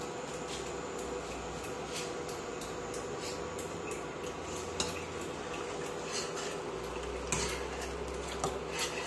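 A spoon stirring condensed milk into a maja blanca corn mixture in a pot, faint steady scraping and clinking against the metal over a constant low simmering hiss, with no talk.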